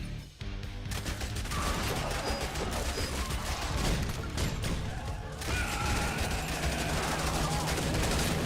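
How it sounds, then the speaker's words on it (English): Shotgun fire from a video game rattles through as a dense, continuous run of loud shots and mechanical clatter, with no talk over it. "Shotgun."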